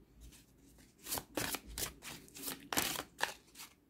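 Tarot cards handled and flipped over during a card-choice spread, with several crisp, papery flicks and slaps in an uneven rhythm, close and moderately loud against a quiet background, no talking.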